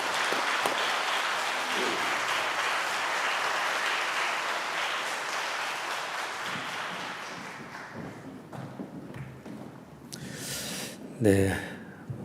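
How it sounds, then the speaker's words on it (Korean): An audience claps for musicians and singers at a church seminar, a dense, sustained round of applause that thins out near the end, with a few scattered thumps and a short voice at the close. "연주와 찬양을 해주신 분들에게 다시 한번 박수 보내주시기 바랍니다"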